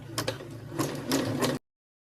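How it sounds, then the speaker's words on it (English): Sewing machine stitching a blind hem on pants, a short close run of rapid mechanical needle clatter with a few rhythmic pulses before stopping abruptly. "the needle's going to stitch, stitch, stitch on this little allowance right here."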